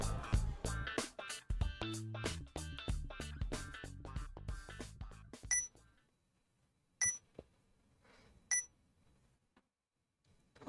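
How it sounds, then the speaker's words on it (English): A rapid flurry of electronic beeps and chirpy game-like tones from the PS4 game 428: Shibuya Scramble, then quiet broken by a couple of isolated beeps. "A strange beeping sound broke Minorikawa out of his writing reverie."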